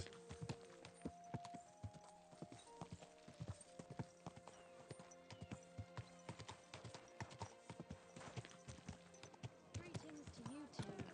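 Horse hooves clip-clop in a steady, even rhythm in Kingdom Come Deliverance 2, close and distinct, with a voice speaking and brief musical tones over the walking gait.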